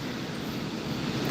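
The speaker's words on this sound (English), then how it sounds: "hearing the water in the background" Rushing water from the falls at Falls Park in Post Falls, a steady broadband roar that fills the background evenly with no break and no voices.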